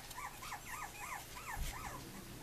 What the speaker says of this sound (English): Need all this barking.